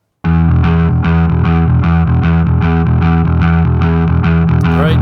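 Dense, loud music with a steady pulsing beat and a thick, distorted tone, heard through an ART Pro VLA II compressor, playing continuously without pause after a brief silent start.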